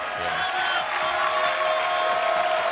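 A large indoor crowd at a Hearthstone match between tech CEOs applauds and cheers in a steady, dense wash of clapping that continues evenly throughout.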